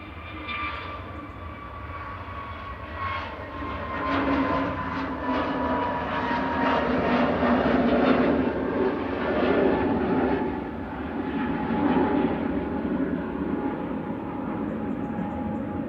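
A Jet2 Airbus A321neo airliner passing at Manchester Airport, a steady jet roar that swells and lingers for around sixteen seconds, heard from a distance outdoors.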